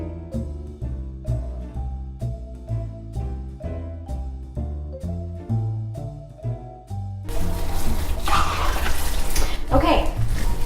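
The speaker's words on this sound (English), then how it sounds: "go ahead and give it a good stir until it's well combined" A blend of mozzarella cheese and parsley is stirred in a bowl for a one-pot lasagna, a dense, steady scraping swish filling the last few seconds after soft piano-like music.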